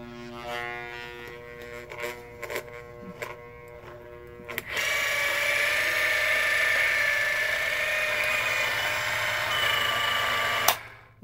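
An electric fan motor with a worn bearing runs noisily, a steady buzzing hum with rattling overtones that swells louder midway and cuts off abruptly at the end, after some earlier clicks and handling.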